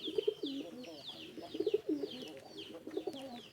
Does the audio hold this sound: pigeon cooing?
yes